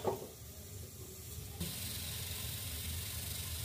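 A gas stove burner is lit under a pan, giving a short ignition burst followed by a steady, close, fairly quiet hiss that holds on evenly without any talking.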